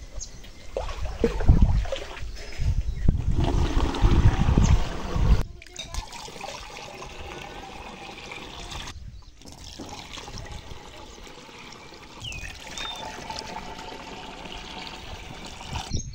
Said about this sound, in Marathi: सगळ्यात अगोदर आपण अर्धी टाकी पाण्याने भरून घेऊयात।